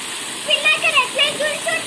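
Heavy rain pours down in Bhuvanagiri, a steady broadband wash with splashing runoff like a gushing stream, while a few faint voices rise briefly above it.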